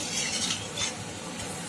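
Sweet gavvalu dough shells dropped into hot oil, giving a close, steady hiss of frying with a few brief swells of bubbling and no speech.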